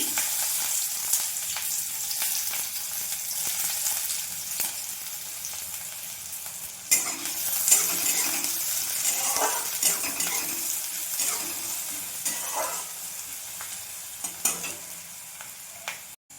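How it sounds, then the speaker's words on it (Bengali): Chopped onions fry in oil in a wok with a continuous close sizzle, broken by scraping stirs and light metallic clinks of a utensil against the pan, no speech. "পেঁয়াজটা অনেকটা ভাজা হয়ে গেছে।"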